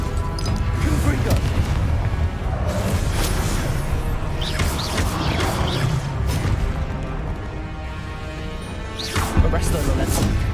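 Confringo fire spell blasts in Hogwarts Legacy combat, loud booming bursts and whooshes layered over a constant dense game soundscape, with a voice speaking over the action.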